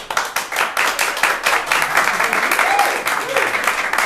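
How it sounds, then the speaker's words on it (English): Loud, dense applause from an audience at a summer intensive dance showcase, many hands clapping continuously throughout, with a few voices mixed in. "Give a big round of applause if you are not in the intensive."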